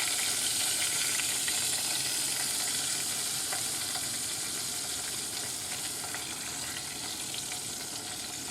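Chicken pieces frying in hot grease in a pan, a steady dense sizzle and crackle that holds loud and constant throughout with no talking.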